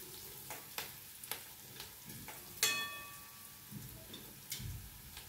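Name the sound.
carrots being sautéed in a pan for upma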